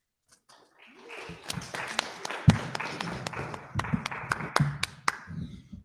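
Scattered applause at a wrestling media scrum builds from a few claps into a sparse round of clapping, with some crowd murmur underneath, moderately loud and nearby.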